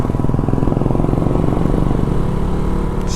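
A motorcycle's cooling fan keeps running with the engine going during a ride on a winding mountain road in Himachal, giving a steady, loud, continuous mechanical hum with low rumble throughout, no talk over it.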